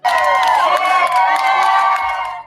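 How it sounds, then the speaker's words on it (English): Loud applause and cheering from a victim's family erupt in a courtroom after a judge's ruling, a dense, continuous crowd roar with shouts throughout. "Applause erupted from the victim's family."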